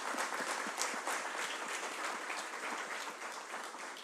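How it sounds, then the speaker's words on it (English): Conference audience applause at a scientific meeting on atomistic simulations, even continuous clapping from a seated crowd, steady and fairly soft, slowly tapering toward the end. "Can everyone please give Victoria a round of applause?"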